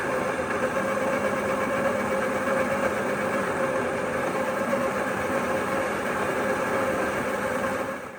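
Ninja Luxe and Breville espresso machines pumping during extraction, giving a steady, fairly loud mechanical hum and vibration that runs unbroken throughout with no voices.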